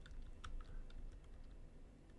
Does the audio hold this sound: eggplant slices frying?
no